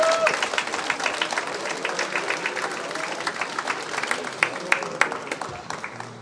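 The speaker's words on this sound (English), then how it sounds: "Slayton a round of applause here." Applause from an audience in a high school presentation for a guidance department chair, a scattered clapping crowd heard throughout with individual claps standing out, moderately loud.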